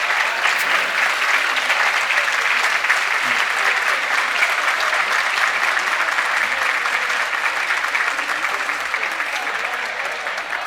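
Museum board members at a polo Hall of Fame induction ceremony receive sustained, dense applause from a large audience, steady and loud throughout, easing slightly toward the end.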